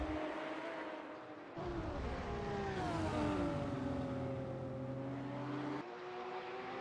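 A Porsche Cayman GT4's mid-engine on track at Sonoma, with a raspy tone rising and falling through gear changes as the car accelerates, revs and passes at moderate distance.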